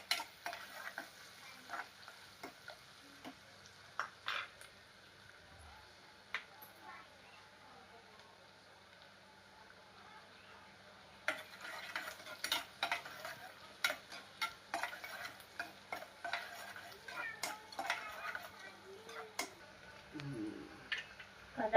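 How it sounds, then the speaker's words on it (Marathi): Onion is sautéed in a pan with a pinch of salt while it browns. A low, steady sizzle sits under sharper, frequent stirring scrapes that grow busier halfway through. "कांदा व्यवस्थित परतून घेऊ."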